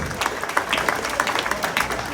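A crowd at Labour Day speeches in Union Square applauds a government minister, a loud, steady patter of clapping with a few scattered sharper claps and some crowd noise.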